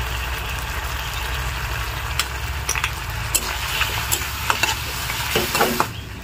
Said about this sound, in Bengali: আর দিয়ে দেবো সয়া সস। এবার একটু ভালো করে নেড়ে নেব